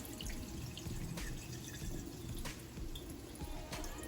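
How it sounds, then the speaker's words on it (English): Water from boiled potatoes pours steadily into a kitchen sink, a continuous splashing rush with scattered drips. It runs at an even level throughout, with no voices. "now I'm just going to drain the water from the potatoes"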